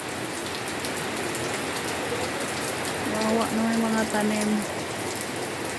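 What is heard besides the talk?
heavy typhoon rain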